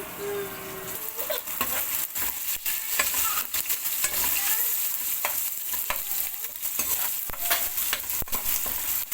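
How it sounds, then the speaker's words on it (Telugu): Biryani rice with coriander and green chilli slits being stirred in a pot, giving a steady close scraping and sizzling with repeated spoon strokes, no talk. "కొంచెం కొత్తిమీర అలాగే పచ్చిమిర్చి చీలికలు కూడా వేసేస్తాం ఒకసారి తిప్పేస్తాం"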